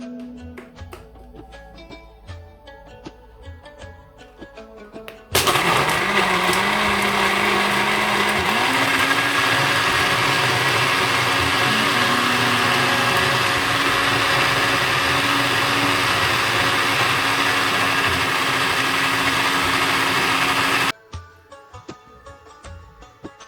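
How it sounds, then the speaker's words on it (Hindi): A blender whirring through a homemade Starbucks-style frappuccino with vanilla extract, a loud steady motor roar that starts abruptly, holds for about fifteen seconds with slight pitch shifts, then cuts off, with quiet kitchen background before and after. "ब्लेंड करूंगी।"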